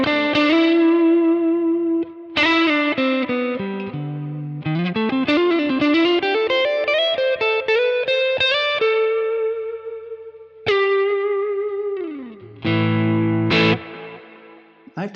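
An electric guitar plays through a Neural DSP Nano Cortex capture: a distorted, effects-laden tone with sliding single notes and chords that ring out, loud and close, with no speech.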